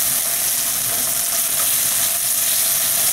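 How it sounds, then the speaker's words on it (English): Ginger and garlic sizzling in a hot pan while cooking General Tso's chicken, a loud steady crackling hiss that runs unbroken and alone. "So I'm going to add the ginger and the garlic."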